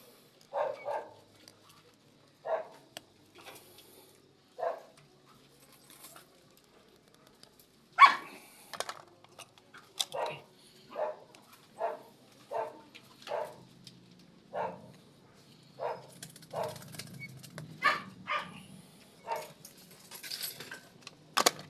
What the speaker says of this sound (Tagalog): Ayan, minanggulo pang aso guys.